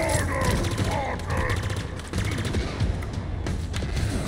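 Gunfire in the video game Halo Infinite: dense, continuous rapid shots and bursts under heavy battle noise, loud throughout, with voices talking over it.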